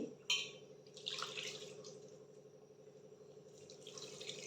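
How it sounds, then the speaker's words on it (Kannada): Water pours in a steady stream into a pressure cooker, starting with a splash and running continuously, fairly quiet and close. "ಎಷ್ಟು ಬೇಕೋ ಅಷ್ಟು ಅಳತೆಗೆ ನೀರು ಹಾಕಿ"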